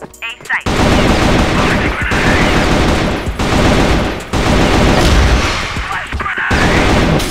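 Dense, loud automatic gunfire rattles almost nonstop in a shooting video game, with sustained bursts broken by a few short pauses and a voice briefly speaking over the din.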